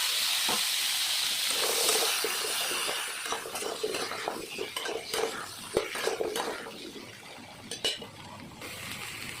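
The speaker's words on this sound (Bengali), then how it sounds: "এখন এই সেম তেলে পটল আর আলুটা ভেজে নিই।" Pointed gourd and potato frying in oil left over from frying shrimp: a hissing sizzle with frequent clinks and scrapes from a spatula stirring against the pan.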